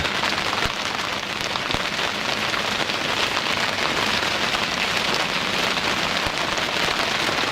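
Steady, dense rain drumming on a boat close by, a constant hiss with occasional heavier drops, no voices.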